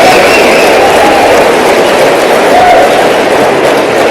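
A large audience at a Les Brown motivational talk applauds, a loud, sustained roar of clapping and crowd noise that stays even throughout.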